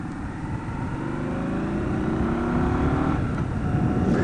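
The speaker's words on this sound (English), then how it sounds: "I get a whine from the engine that's, you know, the whine of a water-cooled bike, which the Scout is." Indian Scout water-cooled motorcycle engine holding a steady, loud mechanical whine with rising harmonic tones as it pulls, with little exhaust note and no voices.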